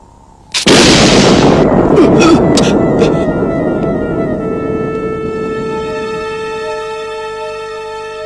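A sudden loud blast bursts out, then a long rumbling decay with ringing tones fading slowly over several seconds, from an old Wiro Sableng martial-arts film.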